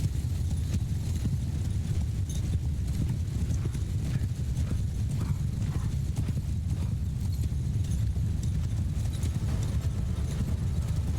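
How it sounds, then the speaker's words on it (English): In the video game Mount & Blade Bannerlord, two cavalry armies gallop toward each other, and their hooves make a dense, continuous thunder of clip-clops with an occasional whinny mixed into the din. "This is horse army versus horse army right here."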